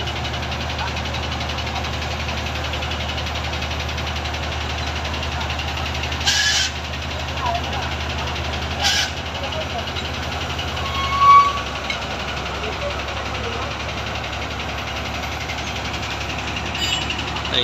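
At a bridge construction site, a heavy crane engine idles and turns over while lifting a girder, a steady low rumble throughout, with a couple of short high beeps and a brief louder surge near the middle.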